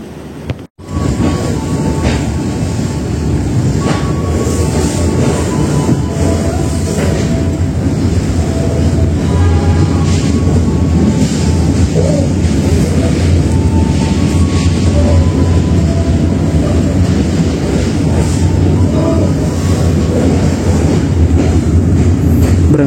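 A Siliwangi local train idles at Sukabumi station before an early-morning departure toward Cianjur and Cipatat, its loud, steady rumble and hum filling the scene after a brief knock at the start, with no talking.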